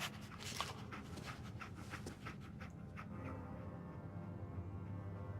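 Dogmeat, the dog companion in Fallout 4, panting softly amid a game soundscape, with rapid breathy puffs early and a low hum underneath, faint and without talk.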